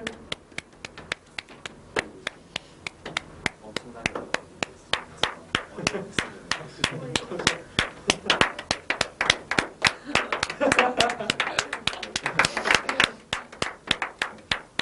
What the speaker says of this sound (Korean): 와우, 박수.